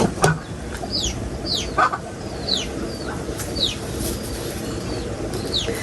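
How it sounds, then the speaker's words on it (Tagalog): Chickens cluck and chirp repeatedly at moderate distance over a steady background hum, with short rising calls scattered throughout. "pakainin mo yung mga manok ay kulong muna"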